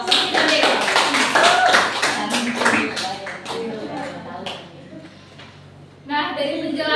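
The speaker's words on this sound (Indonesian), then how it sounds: "Beri aplaus untuk Putri dan Dewi." A classroom of students breaks into applause, many hands clapping in a dense, lively burst that gradually thins and fades, followed by a teacher's voice speaking near the end.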